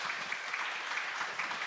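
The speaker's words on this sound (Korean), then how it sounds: "박수 부탁드립니다." A short burst of audience applause follows a talk at a Christian discussion event in New York, with dense, even clapping throughout and no voices.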